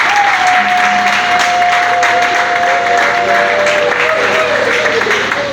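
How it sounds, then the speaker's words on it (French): Dense, steady applause from an assembly in an arena honoring a dignitary, a continuous wash of clapping with crowd murmur and a faint sustained tone running underneath. "nous vous prions de vous lever et que l'Assemblée puisse vous applaudir"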